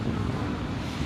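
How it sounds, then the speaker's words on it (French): Steady wind buffets the microphone with a low, constant rumble for about a second, with no other sounds, on the French Atlantic coast near Fort Boyard. "Il y a un peu de vent, hein."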